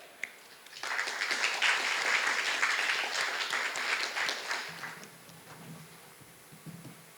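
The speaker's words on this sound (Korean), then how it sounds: "큰 박수 부탁드릴게요, 여러분" Audience applause at a business forum on digital transformation for mid-sized companies, welcoming a presenter to the stage: a sustained burst of clapping that swells quickly, holds for several seconds, then fades into faint room noise.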